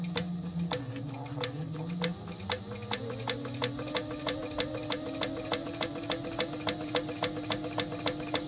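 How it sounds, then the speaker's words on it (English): A home sewing machine top stitches a quarter-inch seam beside a zipper on a fabric gift project, its needle ticking in a steady, close, rapid rhythm that picks up speed after a slower start, with the motor humming underneath. "And then we're just gonna top stitch that with 1/4 inch"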